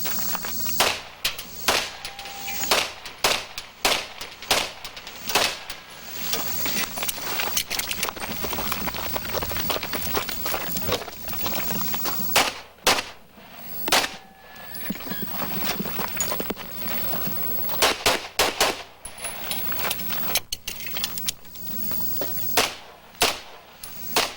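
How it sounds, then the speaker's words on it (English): Pistol shots ring out across a stage at the 1990 USPSA National Championships, a woman shooter firing many sharp cracks in quick irregular strings with short pauses, moderately distant, amid outdoor range noise. "I think Norjean had a miss there on that mover, and she wanted to make it up around the corner but couldn't see the angle."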